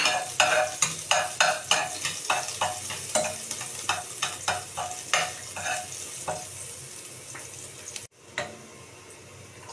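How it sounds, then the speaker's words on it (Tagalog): Garlic sautéing in a pan for a Filipino pechay, tomato and pork giniling dish, with a steady hiss of frying broken by a run of rhythmic scraping stirs that slow and fade, close up and without talk. "igigisa natin ng bawang"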